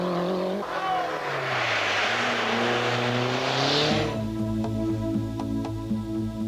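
Lancia Delta HF Integrale rally car engine revving hard, rising through the gears with a rough, raspy tone, then dropping to a throbbing idle-like burble.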